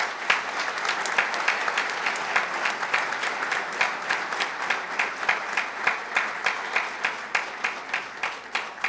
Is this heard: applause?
yes